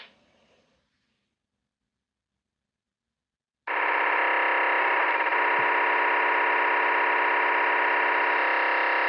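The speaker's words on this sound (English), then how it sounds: "if I now do a test transmission on my Anytone, this should receive a digital signal. However, it won't be able to decipher it." An undecoded digital radio transmission comes through an analogue Anytone ham radio after near silence: a loud, harsh, buzzing data tone with a rapid fluttering texture that holds steady for several seconds, then cuts off abruptly.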